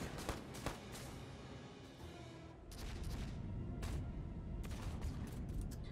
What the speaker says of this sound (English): I really should have had, like, a bigger explosion.